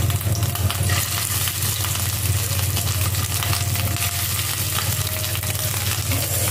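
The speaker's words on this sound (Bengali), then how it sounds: "এত ছিটাই না মাছের ডিম ভাজতে গেলে" Fish roe rubbed with salt and turmeric fries in hot oil, spattering with a loud, continuous, close-up sizzle and popping over a low steady hum.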